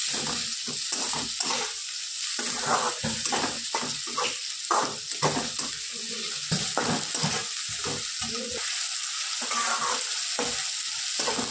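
Tomatoes fry and get stirred in a pan over a village clay stove, a steady close sizzle broken by repeated scraping stir strokes throughout.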